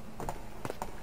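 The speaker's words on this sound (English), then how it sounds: "I hear another set of footsteps." Footsteps in the video game Shenmue: a few soft, separate footfalls in an uneven rhythm over a faint, steady background.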